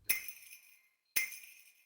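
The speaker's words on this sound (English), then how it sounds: "When they hit a backhand, it sounds like this." A tennis backhand is signalled by a sound effect of two bright, glassy chimes roughly a second apart, each with a sharp attack and a lingering shimmering tail, fairly soft and alone.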